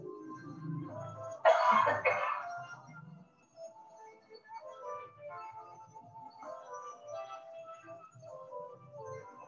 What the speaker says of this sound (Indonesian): lakukan batuk yang kuat sebanyak 2 kali